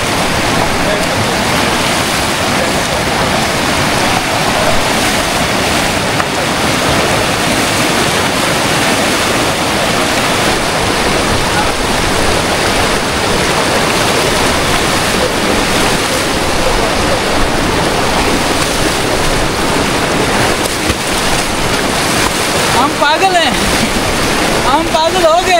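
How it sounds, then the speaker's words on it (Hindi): Fast-flowing water at Bruti waterfall in Islamabad roars loud and steady, a dense continuous rush that fills the whole scene from start to finish, with faint wind buffeting the microphone. "पानी बहुत तेज है।"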